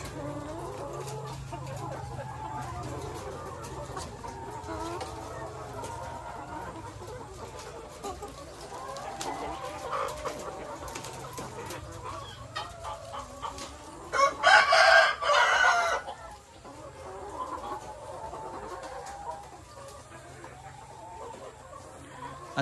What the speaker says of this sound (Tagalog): Ito po yung ating Loman layer chicken.